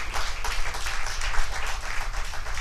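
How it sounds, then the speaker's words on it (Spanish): A church congregation applauds the Lord, dense continuous clapping from many hands filling the room at close range, steady and loud throughout. "démosle un aplauso al Señor"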